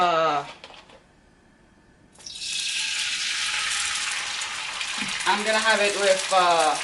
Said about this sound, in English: I'm gonna fry some egg white